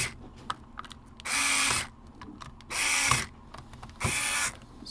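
A small power screwdriver drives the screws of a game controller's plastic back shell back in, in three short whirring bursts, close and loud, separated by quiet handling clicks.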